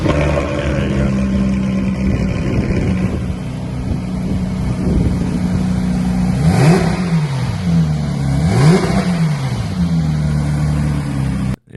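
A car engine with a newly installed aftermarket exhaust idles with a deep, steady rumble, then revs up twice in quick swells that rise and fall, loud and close, with no talking.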